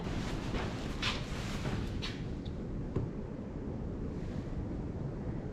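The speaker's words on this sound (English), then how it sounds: "It's crazy windy outside." Strong wind roars steadily outside a hiking hut on the Heysen Trail, a constant broad rush with gusty swells, no voices, like weather battering a shelter.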